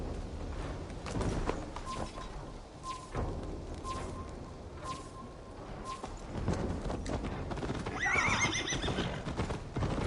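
A horse whinnies and snorts over steady clip-clop of hooves in a Viking-age video game setting, with a muffled ambient backdrop and no talking.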